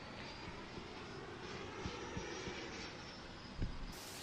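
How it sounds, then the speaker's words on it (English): An RC F-16 jet with a 90mm electric ducted fan flies past with a steady, airy whine and rush. The sound stays at a fairly constant distance and carries a few soft thumps, with no voices. "The sound of this 90mm EDF is really awesome."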